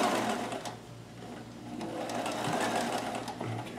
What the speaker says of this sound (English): Finish sewing.